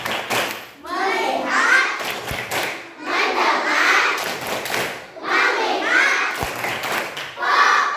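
Elementary school children play the tepuk fokus clapping game at a school seminar, striking sharp rhythmic claps in quick patterns while voices chant along.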